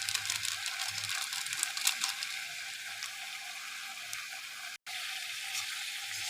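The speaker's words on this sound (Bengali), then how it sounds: "ভেজে নেব। ফ্রেন্ডস, শব্দ শুনতে পাচ্ছ?" Boal fish fries in oil with salt and turmeric, giving a faint, steady sizzle with fine crackling and a brief dropout near the end.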